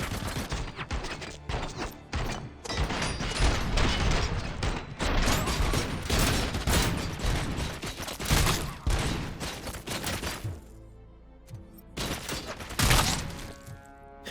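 Sustained gunfire tears through a wall in RoboCop: Rogue City, a dense, loud barrage of overlapping shots that runs for about ten seconds, drops briefly, then returns in a few heavy bursts near the end.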